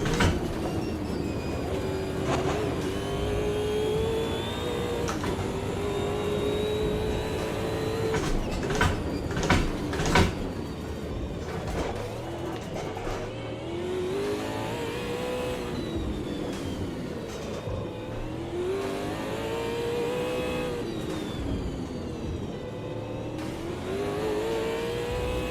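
Race car engine in a sim racing game revving hard and continuously, pitch climbing and falling through gear changes over a steady loud drone, with a few sharp transient bursts midway.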